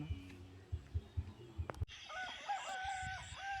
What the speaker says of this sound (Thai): ได้ยินเสียงไก่ขัน